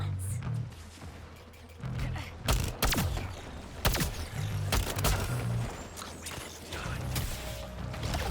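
Weapons fire in Suicide Squad: Kill the Justice League in quick bursts of sharp cracks and clanking impacts, scattered irregularly beneath in-game character dialogue.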